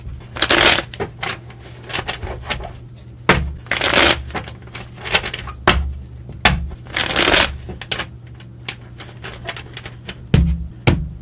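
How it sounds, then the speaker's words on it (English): Tarot cards are shuffled repeatedly nearby, with bursts of riffling and snapping spaced unevenly between quieter pauses, with no voices. "3 more shuffles, and let's begin."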